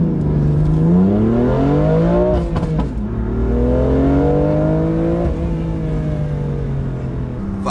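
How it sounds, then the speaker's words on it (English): A BMW M2 accelerating hard through the gears, its engine note climbing in repeated sweeps with brief breaks at each shift where turbo blow-off hisses, loud and close with no talk over it. "Hearing some nice blow-off sounds in here though."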